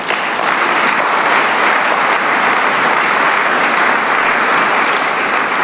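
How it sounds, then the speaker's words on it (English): A large audience at an economic development grants finalists event bursts into loud, sustained applause, a thick, even roar of clapping that holds steady throughout. "I think you all deserve an amazing round of applause for yourself"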